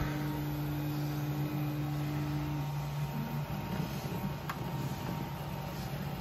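D3D500 3D printer working quickly on thin walls, a continuous whirring hum with steady stepper-motor tones that shift partway through, no voices.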